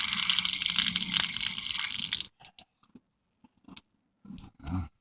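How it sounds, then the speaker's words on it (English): Rainwater pours off an off-grid unit into a collection barrel as a steady, rushing gush for a couple of seconds, then cuts off, leaving near silence with a few faint drips and knocks. "All this water comes down here, fills this barrel up."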